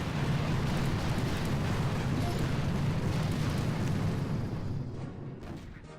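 An artillery barrage in the video game Mega Crab rumbles as a dense, continuous roar of overlapping explosions, loud and heavy throughout, easing off slightly in the last second.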